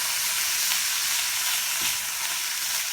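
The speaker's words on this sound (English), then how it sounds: "we're gonna take about 1/2 cup of the olives and put it in the meat. Stir it around" Olives stirred into cooking meat for plantain lasagna, with a continuous close sizzle and frying hiss and faint scraping of stirring underneath.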